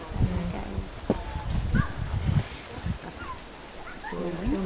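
A reindeer herding dog whimpers and yips in short bursts, fairly close, while people talk quietly in the background and faint outdoor sounds drift in.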